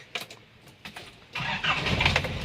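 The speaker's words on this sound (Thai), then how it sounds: "สตาร์ทติดง่ายนะครับรถสตาร์ทติดง่าย" A 1996 Nissan BM pickup truck with power steering cranks briefly after a few faint clicks, then catches and settles into a loud, steady, close-up idle.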